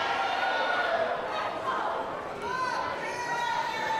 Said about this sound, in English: You hear the crowd trying to give Paris everything they can.